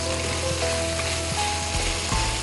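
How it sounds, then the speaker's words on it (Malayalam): Drumstick leaves fry in a hot pan with a loud, steady sizzle, punctuated by a few sharp crackling pops spaced across the stretch, with no speech. "പൊട്ടുന്ന ശബ്ദം കേട്ടോ, പൊട്ടുന്ന പൊട്ടാസ് മാതിരി"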